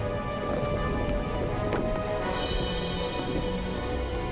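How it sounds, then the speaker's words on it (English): A dense, continuous clatter of superheated rocks falling like heavy hail across a valley, loud and unbroken with a low rumble beneath. "Superheated rocks shower the valley in a burning hail."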